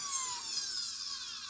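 A small mandrel sander whines steadily against a carved wooden finch tail, a close, continuous high hiss with no talk.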